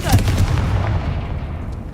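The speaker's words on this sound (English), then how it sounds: "Confringo." A Confringo fire spell explodes in the Hogwarts Legacy video game, a loud blast with a sharp onset followed by a sustained booming, rumbling tail that fades slowly.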